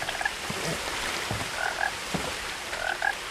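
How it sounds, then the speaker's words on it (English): Repeated frog croaks sound in short bursts over a steady outdoor ambience in the game What Remains of Edith Finch, moderately close and fairly quiet, with no talking. "See if I can spot that frog."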